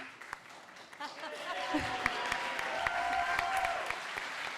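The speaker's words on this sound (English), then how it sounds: "Let's clap him off." An audience at a national youth pitch competition grand final claps as a presenter rides a bike off stage, moderate and steady under music, with a voice speaking over it.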